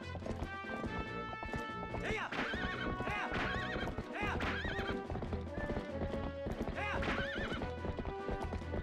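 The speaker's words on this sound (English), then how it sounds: "If you get on Epona from the back, you immediately go into a sprint." Epona the horse sprints in the video game Zelda: Twilight Princess, with rapid clip-clopping hoofbeats and a whinny mixed into continuous game music.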